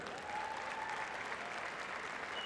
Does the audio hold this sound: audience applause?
yes